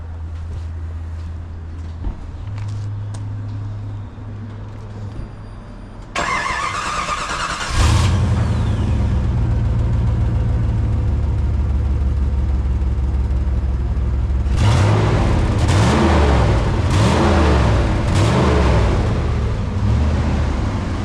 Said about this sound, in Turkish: Çalıştırsana. Egzoz duyalım.